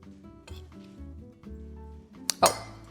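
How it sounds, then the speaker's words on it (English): A spoon stirs a grated cheese mixture in a bowl while making Italian stuffed artichokes. A few bright clinks of the spoon against the bowl sound up close near the end. "Then we'll use a spoon to just stir that together."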